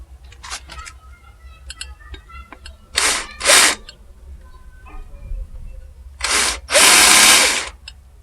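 A power drill whirs in two bursts, a short one and then a longer, louder run, with light clicks and handling noises between, drilling with a 6.8 mm bit for rivet nuts on an electric bicycle battery mount.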